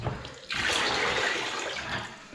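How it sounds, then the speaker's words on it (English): Water splashes steadily from an iron radiator pipe during a radiator swap, a sudden close hissing spatter that starts abruptly and runs on without pause. "Still dripping a bit."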